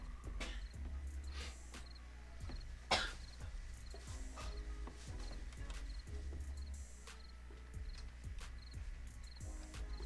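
Several short coughs and throat noises from a person with a cold come and go through steady background hum and faint chirping insects, with one sharper cough standing out.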